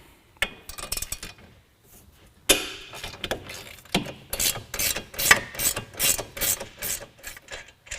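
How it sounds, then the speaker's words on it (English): A ratchet wrench loosens the top control arm bolt on a Polaris Sportsman XP 1000 ATV, giving close, sharp clicking bursts in quick, uneven strokes with short pauses between them. "Now we're going to take off the top control arm bolt."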